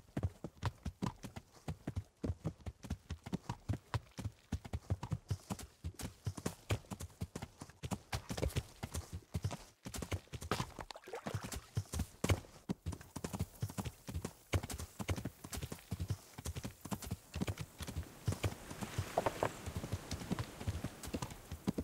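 Rapid, continuous horse hoofbeats in a video game, Kingdom Come: Deliverance, clop along steadily for the whole stretch, a galloping rhythm with occasional brief pauses and faint background noise.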